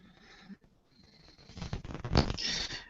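A cat purrs close to the microphone, starting faint and swelling into a louder, rumbling purr with a snort-like peak, while faint voices murmur in the background.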